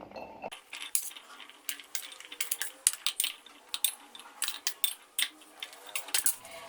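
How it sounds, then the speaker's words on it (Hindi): Chopped carrot, cauliflower, turnip and green chilli pieces clatter into a bowl for a mixed vegetable pickle, a quick scatter of small hard clicks and taps close by, with no talk. "अब इन सब्जियों को एक बोल में डालेंगे।"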